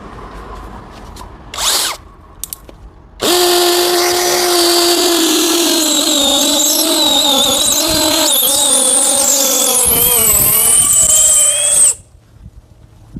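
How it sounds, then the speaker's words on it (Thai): An STR 21V brushless cordless hammer drill bores into concrete with a long bit, starting with two brief bursts before a loud, continuous whining, hammering run of about nine seconds that stops abruptly. "ทดสอบเจาะปูนนะครับ แบบเต็มประสิทธิภาพเลยเจาะกับดอกยาวนะครับ"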